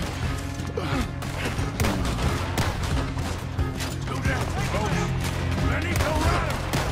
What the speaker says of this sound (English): I'm missing all my shots right now